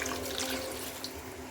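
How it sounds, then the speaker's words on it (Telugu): Water is poured into a pot of chicken curry (chicken pulusu) as it cooks, making a brief, steady splashing trickle that sounds fairly soft and close. "వాటర్ కొద్దిగా పోసుకునేద్దామండి"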